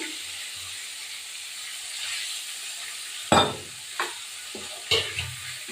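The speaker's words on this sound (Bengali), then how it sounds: "একটু হলুদ গুঁড়ো এবার আমি এটাকে দিয়ে দেব গ্রেট করে এবার টমেটোটা দেবো একটুখানি" Grated tomato and turmeric hit frying spices in a pan, with a soft steady hiss under a few sharp stirring scrapes and bursts of sizzle near the end.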